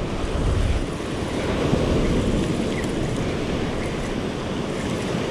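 Rough ocean surf washes steadily onto a beach where someone is fishing, a continuous broadband roar with wind buffeting the microphone, loud and close throughout.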